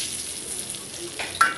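Chillies and curry leaves sizzle in hot tempering oil for a Karnataka chutney, a short, steady hiss with a couple of brief crackles near the end; no voices.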